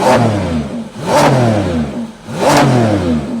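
A Lamborghini Revuelto engine fires up and revs hard three times in a row, each loud rising roar falling back between bursts, close by.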